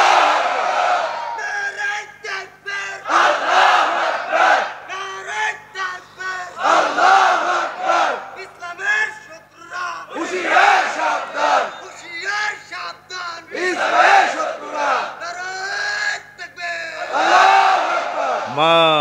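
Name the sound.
crowd at a religious gathering responding to a takbir call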